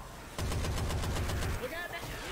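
Rapid automatic gunfire from a weapon in the zombie shooter Left 4 Dead 2, a loud, steady burst of evenly spaced shots lasting over a second, then stopping as quieter game sounds and brief chatter follow.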